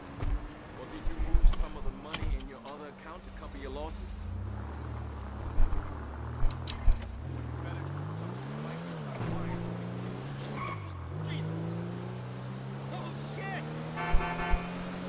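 A car driving in the game GTA 5, its engine note rising and falling steadily through the whole stretch, with occasional horn toots and speech over it.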